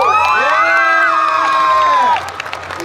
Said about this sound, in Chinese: 给我们自己掌声一下。